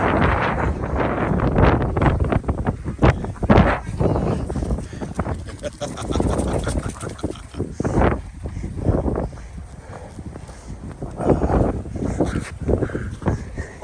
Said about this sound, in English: I guess it is 40-mile-an-hour winds or whatever.